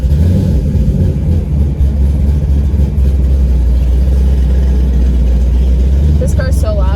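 A loud built Camaro engine runs steadily after start-up, a deep rumbling idle filling the whole stretch close and constant, with a brief higher note near the end.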